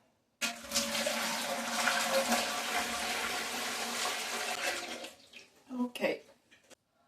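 Pre-boiled water pours steadily into a pressure canner for about five seconds, a loud continuous splashing gush that then tapers off into a few brief sloshes.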